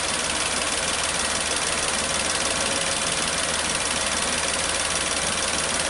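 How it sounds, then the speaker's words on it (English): Steady idle of a 2012 Nissan Latio engine running rough, a close, continuous mid-pitched drone with no clear dips or rises over several seconds. "Gonna hear the RPM die off and come back up"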